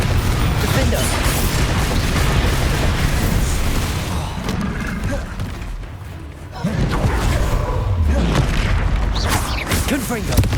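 Confringo and Expelliarmus spell blasts in the video game Hogwarts Legacy, booming thuds and crackling bursts fired in rapid succession, loud and dense with a short lull midway before the barrage resumes.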